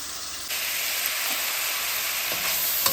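Onions sautéing in hot oil for a Jaffna-style curry make a loud, continuous broad sizzle that jumps up slightly after a moment and then holds steady, close by, with no talking over it.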